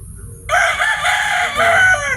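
A rooster crows loudly and close by near a storm-damaged chicken coop, one long drawn-out call that begins abruptly after a brief quiet moment and holds to the end.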